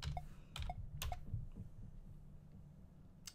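Typing on a computer keyboard to enter a player name in a game setup screen, a few quick clustered key clicks near the start, then sparser taps over a low steady background hum.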